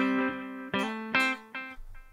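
Electric guitar played through the echo chime delay effect of a Line 6 HX Stomp, four distinct plucked notes or chords, each ringing out into shimmering repeats and decaying tails.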